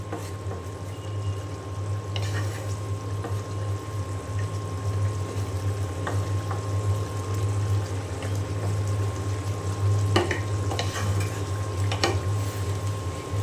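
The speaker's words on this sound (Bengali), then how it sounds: "তারপরে আমি এখানে পটল আলু দিয়ে আবার কষিয়ে নেব।" Beef curry with pointed gourd and potato sautés in a pan, a steady sizzle under a constant hum, with occasional scrapes and clinks from stirring.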